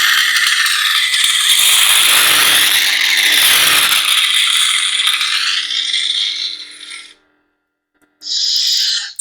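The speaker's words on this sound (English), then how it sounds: "Blade lockup is holding the aux down and hitting the Saber." A Proffie-converted Neopixel lightsaber plays its blade lockup effect: a loud, crackling, sizzling buzz that wavers for about seven seconds, stops, then returns in a short burst.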